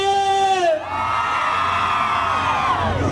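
Women in a live concert crowd let out a loud, sustained chorus of high-pitched shouts and shrieks. The sound swells together at once and holds steady for about three seconds.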